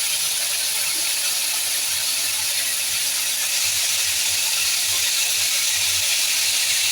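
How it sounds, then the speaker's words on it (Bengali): Potato chips frying in oil in a pan give a steady, even sizzling hiss that holds for several seconds with no break and no voices. "একটু সময় ধরে ভেজে নিতে হবে।"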